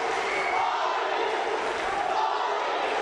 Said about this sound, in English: Crowd here in Antalya really making some noise for this young man